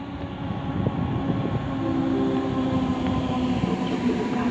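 An EIC Polonia passenger train rolling into a Warsaw station platform, a steady low rumble of wheels and carriages with a faint sustained tonal whine, moderately loud and continuous, with no voices.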